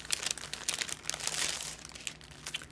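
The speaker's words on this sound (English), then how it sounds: "So I just used a cellophane bag." A cellophane bag crinkles in quick, irregular bursts, a close, fairly faint rustle that carries on steadily throughout.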